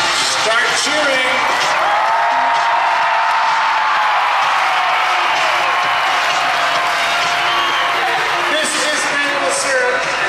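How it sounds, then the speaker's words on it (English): A dense crowd at a dog show cheers and whoops continuously, loud and sustained for the whole stretch, with scattered clapping and shouts mixed into the roar. "Start cheering."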